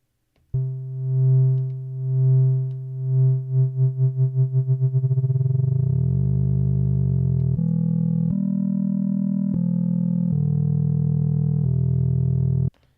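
A buzzy Bitwig synthesizer sawtooth tone under audio-rate LFO modulation pulses slowly, then the wobble speeds up into a gritty, growling texture before jumping between several distorted pitches.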